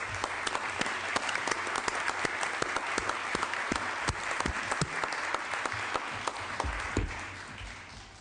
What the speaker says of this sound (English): Ask that we give them a warm round of applause and welcome to the chamber.